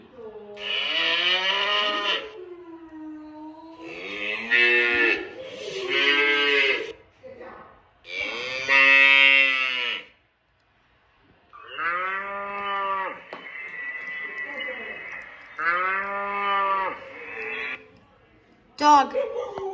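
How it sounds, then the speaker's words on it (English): Several long, harmonic cow moos in a row, loud and close, with brief pauses between calls and a short sharp sound at the very end. "A cow."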